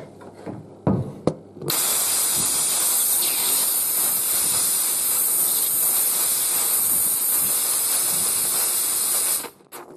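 Household steam cleaner used on a carburetor, a few handling clicks and then a loud, steady hiss of jetting steam for about eight seconds before it cuts off abruptly.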